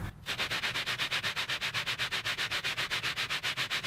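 Steady back-and-forth sanding of wood on a radius dish for an acoustic guitar, rhythmic strokes about five per second, close and continuous with no talking.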